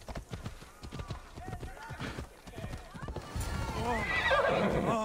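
Horse in the game Assassin's Creed Odyssey: rhythmic hoofbeats of a galloping run up close, then a loud neigh near the end, with a voice speaking over the start.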